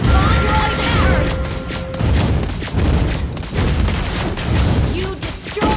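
Turret attack in Mobile Legends: Bang Bang: loud game combat with dense blasts, booming impacts and rapid bursts of fire in quick succession, layered with game effects and a voice speaking throughout.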